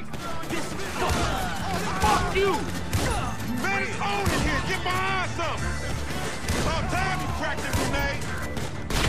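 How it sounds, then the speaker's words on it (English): Gunfire in the video game GTA V during a drug deal gone wrong, rapid bursts of sharp shots and crashing impacts mixed with game music and talk, loud and dense throughout. "There's gunfire in there."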